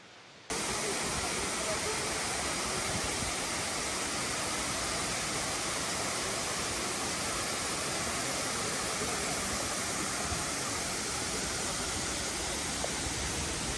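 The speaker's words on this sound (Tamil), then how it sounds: "இந்த அருவி வர்ற சத்தம் வந்து காதுக்கு வந்து நல்லா இருக்குது கேட்கு." A waterfall near Kandy roars steadily and close, a dense, unbroken rushing hiss that starts abruptly and holds at an even level throughout.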